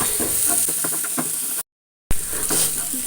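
Red chillies crushed and frying in oil in a pan for a long bean thoran: a steady close sizzle and hiss with a few light stirring knocks, broken by a brief silent gap.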